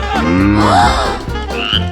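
One long, deep, wavering frog croak rises and falls up close, then a short high chirp follows, with no voices over it.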